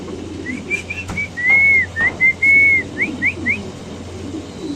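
A black Lahori pigeon calls up close, a run of short whistling coos rising into a few longer drawn notes and then quick upward chirps, clear over a low steady background hum.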